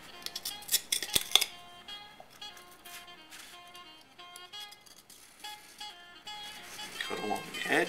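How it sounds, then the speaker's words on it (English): A razor blade cuts excess paper away around the edge of a clarinet during woodwind crack-prevention repair, giving a series of short scraping and snipping sounds up close over background music. "cut along the edge until all the paper is removed"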